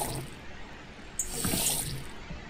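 Tap water runs steadily into a bowl in the Cooking Simulator video game, a continuous splashing stream that swells louder about midway and carries on to the end, with no talking over it.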